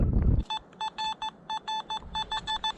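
Metal detector sounding over buried metal beside a railway embankment, a brief thump and then a rapid string of short electronic beeps in uneven bursts, close and clear.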